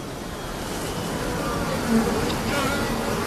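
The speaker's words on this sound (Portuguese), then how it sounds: "as abelhas se comunicam através do som de suas asas" A steady insect buzz hums throughout, broadband and continuous at moderate level, like bee wings droning close by with no voices.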